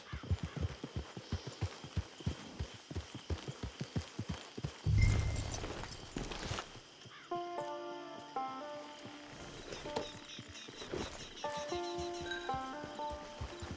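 Horse hooves clip-clop in Red Dead Redemption 2, a fast run of close, regular hoofbeats over the first five seconds with a brief whinny-like burst, then in-game music takes over.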